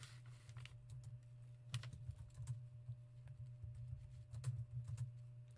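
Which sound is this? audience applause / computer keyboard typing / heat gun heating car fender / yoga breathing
computer keyboard typing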